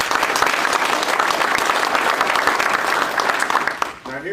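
A legislative summit audience applauds in a dense, sustained burst of clapping that fades out after about four seconds, and a voice starts speaking at the end.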